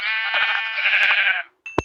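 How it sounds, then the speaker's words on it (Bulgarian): A sheep in the Minecraft video game gives one long, loud, wavering bleat, heard up close and alone, followed by a short click. "Там овца ли има?"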